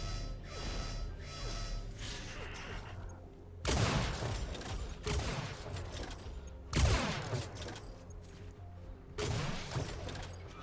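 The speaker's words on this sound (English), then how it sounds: "There's some sniping down map" Sniper gunfire in an Unreal Tournament competitive match, several sharp, loud cracks spaced a few seconds apart, each followed by a ringing decay, with softer mechanical game sounds between shots.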